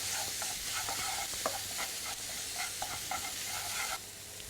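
Spices with fresh coriander powder fry in a pan for lentil dahl, a constant close sizzle broken by repeated clicks and scrapes of tongs spreading them around, no voices.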